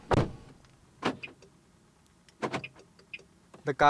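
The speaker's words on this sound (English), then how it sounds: "The coolest feature about it is the chirp on lock and unlock though." A 2010 Skoda Laura's aftermarket anti-theft alarm gives short chirps on lock and unlock, close by: a few brief, sharp bursts spaced a second or so apart, with soft mechanical clicks between them.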